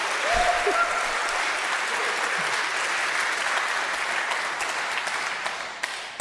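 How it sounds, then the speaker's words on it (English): A debate audience on Israel and Gaza breaks into dense, sustained applause and cheering, a steady wash of many hands with a brief voice at the start, tapering slightly near the end. "Oh, David, they're cheering for me"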